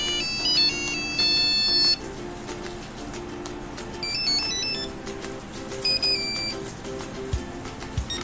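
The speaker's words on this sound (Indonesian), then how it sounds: "nada-nadanya bener-bener unik ya, nada-nadanya ini ya, masih ciri khas Nokia, suaranya masih mono ya" A Nokia 6150 mobile phone plays its classic mono ringtone, a string of thin electronic melody notes over a steady low background hum, moderately loud and continuous throughout.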